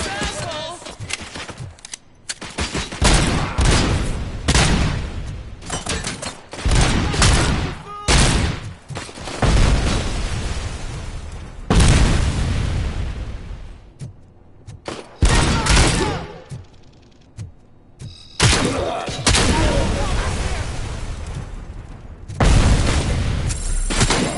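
Gunfire in the game Robocop: Rogue City comes in loud, dense bursts of automatic shots and heavy booms with brief gaps between volleys, and voices speak at times beneath the shooting.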